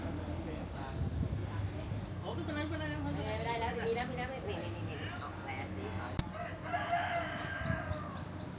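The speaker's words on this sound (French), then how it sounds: "il y a même des coqs qui chantent." Roosters crow faintly in the distance in Bangkok, several calls spread across the clip, under steady outdoor background noise.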